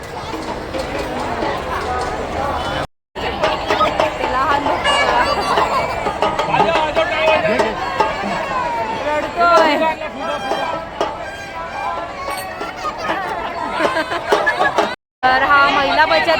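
A dense crowd at a village fair in Wadala on Ashadhi Ekadashi fills the air with loud, continuous babble and overlapping chatter, broken by two brief cuts to silence.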